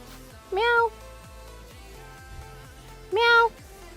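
A cat gives two clear, fairly loud meows about two and a half seconds apart, heard over a steady low rumble of background noise.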